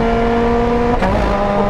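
A Lotus Elise Cup race car with a paddle-shift sequential gearbox accelerates hard on track, its engine droning loud and close with a steady tone that steps at a gear change.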